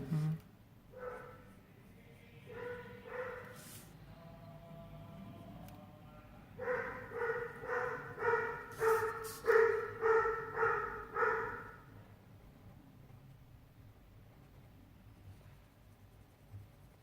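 Pet dogs barking in a home, a few scattered barks early, then a run of about eight loud, evenly spaced barks in the middle, fading back to near silence with faint background noise.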